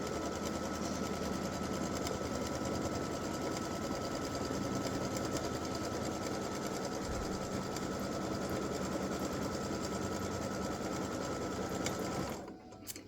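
A sewing machine stitches down a fabric applique in one continuous, even mechanical whir of rapid needle strokes, running steadily before stopping near the end.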